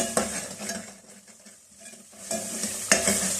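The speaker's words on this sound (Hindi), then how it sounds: "लहसुन अदरक की पेस्ट को भी इसमें थोड़ा सा फ्राई कर लेते हैं।" Paste sizzles and fries in a hot pan, with a spoon stirring and scraping against the metal in short bursts, close up.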